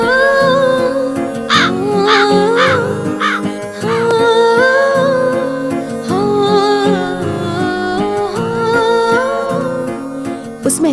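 Crows caw in a few short repeated bursts, loud and near, set against a steady musical background in a Hindi-dubbed action romance film.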